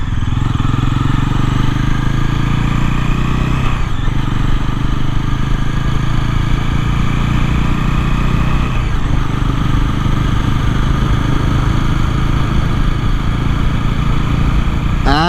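A 2025 Bajaj Pulsar NS400Z motorcycle ridden at night, heard from the rider's position as a loud, continuous engine drone with wind roar and slight pitch shifts as it revs.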